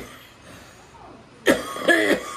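A person gives a couple of sharp coughs close to the microphone, two quick bursts after a quiet stretch.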